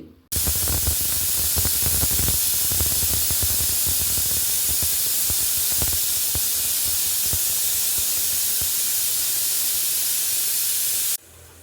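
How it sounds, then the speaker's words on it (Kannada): A pressure cooker cooking field beans vents in a long, loud, steady steam whistle hiss lasting about eleven seconds, then cuts off abruptly. "ಕುಕ್ಕರ್ ಕೂಡ ಕೂತು ನಾಲ್ಕು ಸಲ ಕೂಗಿದೆ"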